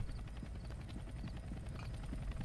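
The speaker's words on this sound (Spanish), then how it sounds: "helicóptero, ¿escuchas?" Steady, fluttering rotor chop of a helicopter in the Roblox game Blacklands, fairly faint and continuous, with no voices over it.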